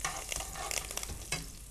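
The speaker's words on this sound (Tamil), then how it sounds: "கடுகு, கடலைப்பருப்பு, பச்சை மிளகாய், இதோடு சேர்ந்து கொத்தமல்லி அப்புறம் கருவேப்பிலை போட்டு நம்ம தாளிக்க போகிறோம்." Mustard seeds, chana dal, green chili, coriander and curry leaves tempering in hot oil in a home kitchen, a dense crackling sizzle with sharp pops and stirring scrapes throughout, close and steady.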